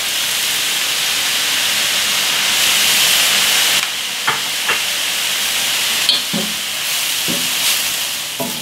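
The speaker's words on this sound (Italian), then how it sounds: "E lasciamo rosolare così per circa 5-7 minuti." Cauliflower rice browning in a pan, a steady loud sizzle and hiss with several sharp clicks and scrapes of stirring breaking through.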